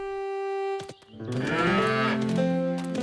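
Cows moo in an animated cartoon about three sisters from a nearby farm walking their cattle home, heard as a long, loud, close low moo following a steady held tone.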